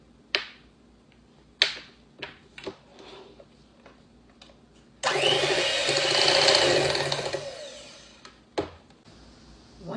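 An electric mixer blends sugar, vanilla and heavy cream into a cream cheese mixture, one loud whirring burst of about three seconds, surrounded by sharp, scattered clicks and taps of the mixer and bowl.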